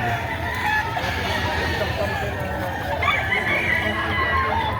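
A six-month-old stag gamecock crows and clucks amid a noisy poultry market in Padre Garcia, Batangas, with other fowl and people talking in the background.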